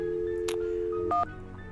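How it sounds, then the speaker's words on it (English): A telephone number is dialed in the Message in a Haunted Mansion game, producing a short sequence of clean electronic keypad tones over a quiet background. "Now I'm gonna call him again."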